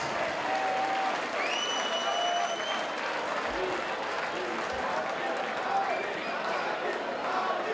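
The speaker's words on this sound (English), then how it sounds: "big round of applause for these two lads" Crowd applause and cheering fill a fight event venue for two fighters, steady and loud throughout, with a few whistles rising above the clapping.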